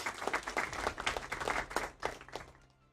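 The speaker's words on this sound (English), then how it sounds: "Another round of applause for these worthy new South African Academy of Science members" Brief round of applause at a South African research and innovation awards ceremony honouring new Academy of Science members, a small group of scattered claps that swells and then fades out quickly.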